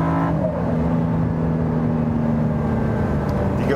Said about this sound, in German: Aber mit dem V8 B-Turbo hier drin ist nochmal eine ganz andere, ungewohnte Soundkulisse